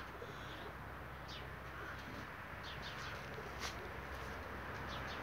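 Pigeons coo softly and repeatedly in a loft against a steady background hiss, with faint chirps here and there.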